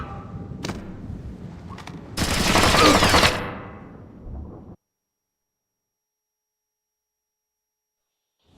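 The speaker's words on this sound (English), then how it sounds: "I'm hearing gunfire down there" Kalashnikov AK gunfire in the video game Splinter Cell Chaos Theory: a loud burst of rapid automatic shots after a lone crack, tailing off into a low rumble and then silence.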